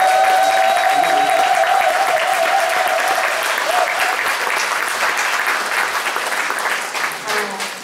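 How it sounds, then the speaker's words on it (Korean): Church congregation at a Thanksgiving Sunday afternoon service applauds the accompanist with sustained, dense applause lasting the whole stretch, tapering slightly near the end, with a held sustained tone early on and faint voices mixed in. "우리 반주자님에게 위로와 격려의 박수를 드립니다"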